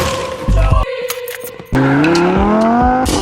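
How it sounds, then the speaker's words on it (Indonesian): Tyres squeal sharply as a Lamborghini speeds away in a film chase, a loud rising engine and skidding screech that swells after a brief quieter moment, with clattering effects layered over it. "Tanpa pikir panjang, mereka kabur bersama menggunakan mobil Lamborghini milik si gondrong."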